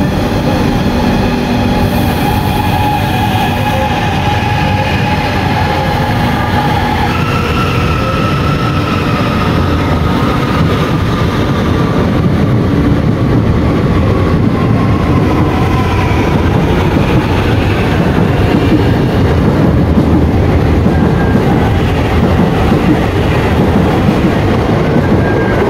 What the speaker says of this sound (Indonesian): Jadi kita abadikan kereta komuter lain China ini yang udah gue naikin dari stasiun Jakarta Kota.